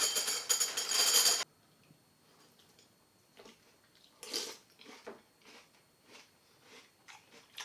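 Crunchy Magic Spoon cereal being eaten up close, with separate bites and chewing crunches in an irregular rhythm after a louder opening burst.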